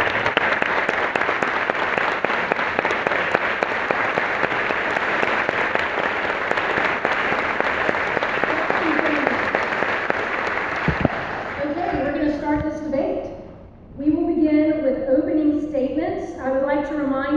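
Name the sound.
audience applause welcoming debate candidates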